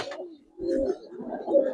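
A Giribaz pigeon, shown for sale, gives low, soft cooing calls close by, a couple of murmuring phrases separated by a brief pause, with no talking.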